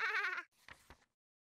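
A sheep in the video game Labyrinth of Refrain lets out a short wavering bleat, followed by a couple of fainter breathy grunts, quiet and alone.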